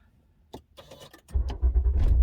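Car engine starting during a first driving lesson, with faint clicks and a key-turn sound before the engine cranks and catches, settling into a loud, steady idle close by.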